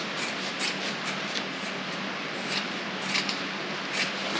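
Scissors cut fibreglass matting into strips, making quiet, repeated snipping and crisp rustling at an irregular rhythm against a soft background hiss.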